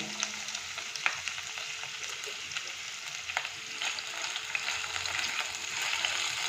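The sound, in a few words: chicken pieces frying with onion and garlic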